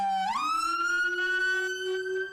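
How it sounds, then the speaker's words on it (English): A Whelen Howler low-frequency siren on an ambulance, a loud buzzing tone that sweeps up sharply from a low pitch and then holds steady, vibrating with strong harmonics, alone without talk. "a Whalen howler, and it lets out a low-frequency siren that buzzes and vibrates"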